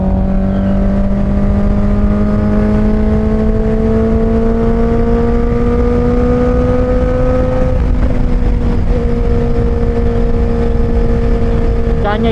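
A Honda CBR650R sport-touring motorcycle pulls through the gears on a ride, its engine whining steadily upward in pitch under constant loud wind rush, with a brief shift near the middle before climbing again.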